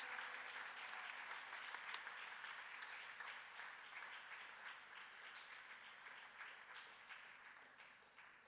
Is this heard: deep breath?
no